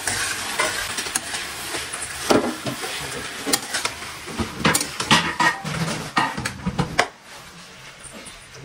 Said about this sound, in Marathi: पकडीनं पकडून नीट असं मिक्स करूया याला